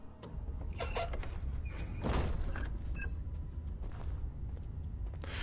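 A door closing in the horror video game Amnesia, heard as a short scraping thud over a steady low ambient drone, with no voices.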